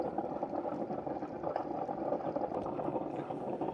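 A Ninja CF082 coffee bar machine brewing, with a steady bubbling, gurgling hiss of hot water and steam rising around the lid, continuous and close.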